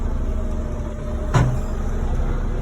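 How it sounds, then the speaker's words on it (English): A single short metallic clank from a truck's fifth wheel while a doubles trailer is being unhooked, heard over a steady idling engine rumble. "You hear that little clank?"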